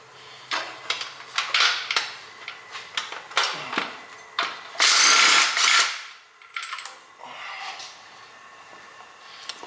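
Hand tools work loose the bolts on the transmission of a 1996 Nissan 240SX S14, giving close, scattered ratchet clicks, metallic clinks and scrapes, and a brief louder rasp partway through, with no talking.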